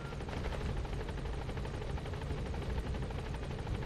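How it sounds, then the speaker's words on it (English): A military helicopter arriving in the video game Metal Gear Solid V: The Phantom Pain, heard as a faint, continuous rapid rotor chop with a steady whooshing hiss. "See, this is our chopper right here."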